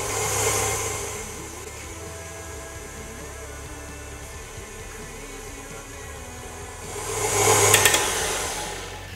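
An electric mixer whirs through ingredients for a sugar tart dough, a steady motor hum at moderate distance that swells louder near the end before easing off, with no talking.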